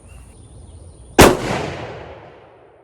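One sharp, loud 6.5 Creedmoor rifle shot firing a 100 grain Nosler ballistic tip, followed by a long rolling echo that fades over about a second and a half outdoors.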